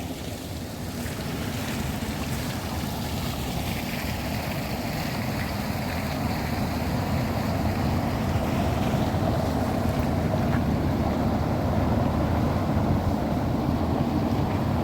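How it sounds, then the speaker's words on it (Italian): Water from a fountain in Sanssouci park, Potsdam, splashes in a steady, continuous outdoor wash with a light breeze over the microphone; no one speaks. "Bella anche la fontana."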